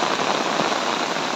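Heavy, nonstop monsoon downpour during flooding in Assam, a dense steady hiss of rain drumming on surfaces, close and unbroken for the whole short stretch.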